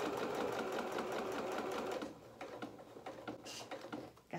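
A domestic sewing machine stitches a dress bodice seam at a 1 centimetre seam allowance, running as a steady, close mechanical whirr for about two seconds, then slowing into softer, intermittent stitches with faint handling clicks.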